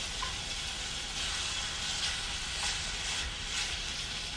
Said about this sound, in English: let the tomatoes cook a little bit with the cilantro, with the garlic, and with the onions